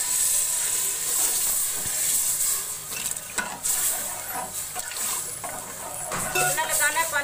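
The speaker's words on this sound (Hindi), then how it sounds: "अब मैं इसको पानी लगा दूँगी।" Water is poured into a pot of sizzling dal cooking for a simple dal chawal meal, giving a steady loud hiss and steam with splashing bursts throughout, while someone talks over it.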